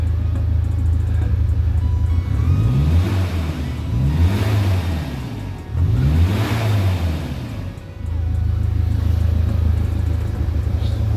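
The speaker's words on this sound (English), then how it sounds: "That's the exhaust, it's disconnected at the back." Volvo C70 diesel engine running with its exhaust disconnected at the rear, a loud, steady, raw rumble near the microphone that rises and falls in several revving surges in the middle before settling back to idle.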